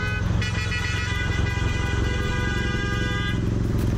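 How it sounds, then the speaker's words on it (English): Car and motorcycle horns blare in road traffic, one long loud honk held for over three seconds above the steady rumble of running engines. "The biker honked at him and he honked back."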